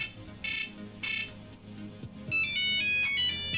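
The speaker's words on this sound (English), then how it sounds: "The classic Nokia tune on here." A loud, tinny classic Nokia ringtone plays a short beeping melody through a Nokia 3310's small speaker, starting with a few isolated tones before the tune runs continuously.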